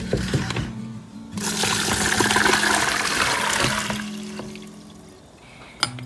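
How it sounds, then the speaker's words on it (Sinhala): Water pours and drains steadily from boiled pumpkin pieces being strained for a pumpkin pickle, a close, continuous splashing rush that swells after a quiet start and then tapers off. "හොඳට වතුර බේරෙන්න පෙරා ගන්න."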